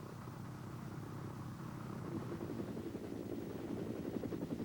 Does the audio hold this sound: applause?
no